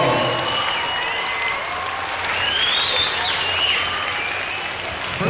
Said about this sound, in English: let's start it off with a warm, enthusiastic round of applause for competitors from 17 countries around the world.